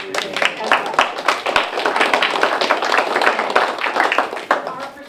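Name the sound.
applause at a public meeting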